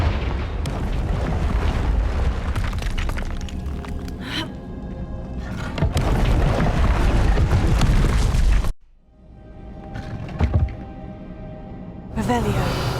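Confringo spell blasts in the Hogwarts Legacy video game, loud booming bursts with whooshes during combat, ending in a brief quiet gap before another blast, with a voice shouting spell names over them.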